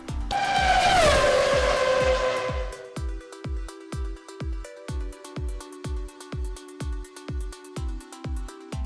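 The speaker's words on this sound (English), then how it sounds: "A car salesman is gonna drive a car up and around here" A 2016 Mazda CX-9 Grand Touring pulls up, its engine and tires swelling loudly for a couple of seconds, then settling into a steady rhythmic series of regular low thumps as it rolls in close.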